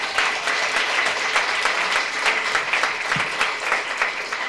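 Steady applause from a sizable audience at a publishing and media panel event, dense clapping sustained throughout without a break.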